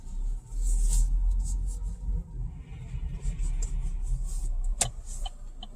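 Car engine running after the car is shifted into drive, a loud low rumble that swells and dips over several seconds, with faint ticking and a sharp click near the end.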